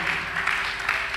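A church audience claps steadily at a sermon, a dense wash of many hands with no clear breaks, moderately loud and slightly distant.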